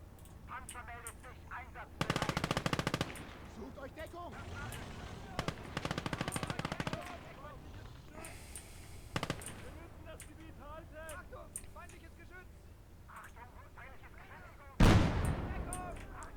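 Rapid machine-gun bursts and scattered shots ring out in the World War II strategy game Call to Arms: Gates of Hell, recurring in short volleys across the battle with a heavier blast near the end, under ongoing talk.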